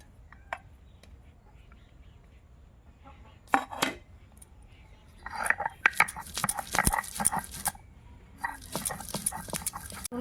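Garlic is ground into a paste with rough, repeated scraping and grinding strokes that grow busier and denser over the second half, after a quiet start.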